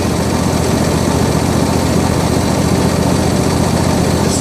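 Husqvarna lawn tractor engine idling at low throttle, a loud, steady, close rumble with an even mechanical pulse and no voices.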